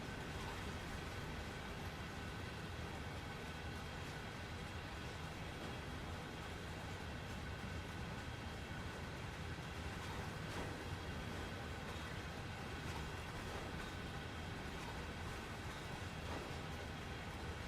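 Union Pacific heritage train on Sherman Hill in Train Sim World 3 rumbles steadily along the track, a dense continuous roar with faint irregular bumps and knocks through the cab.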